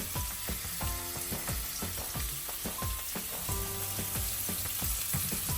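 Chopped onions frying in a pan at home, giving a steady crackling sizzle with small pops, overlaid by repeated clinks and scrapes of a utensil stirring against the pan.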